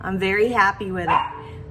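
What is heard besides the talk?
dog barking, locked in a room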